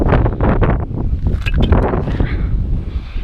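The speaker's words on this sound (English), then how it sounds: "It's a little windy right now" Outdoor wind buffets a new GoPro camera's microphone, producing a continuous, loud, rumbling roar with gusty swells that fills the whole stretch without a break.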